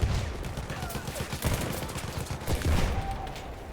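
Constant gunfire in a Battlefield 1 battle, rapid overlapping shots and machine-gun rattle without pause, dense and fairly close throughout.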